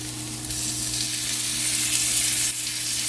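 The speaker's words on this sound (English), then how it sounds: "We are going to saute this for another minute or so." Curry bean burrito filling sautés in a pan, giving a dense, even sizzle with a constant frying hiss close up and a faint scrape of stirring, no talking.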